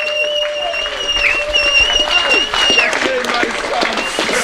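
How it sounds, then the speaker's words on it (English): A poker tournament crowd applauds the final-table champion of a mini main event, steady clapping heard under loud music with sustained tones and whistle-like sounds layered over it. "come a massive round of applause for the mini champion, Mr. Derek Boyle."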